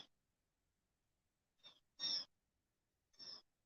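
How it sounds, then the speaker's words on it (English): Blackbirds call in a few short, sharp bursts outdoors during a solar eclipse in Ohio, fairly faint with quiet pauses between them. "Yeah, the birds are really acting up."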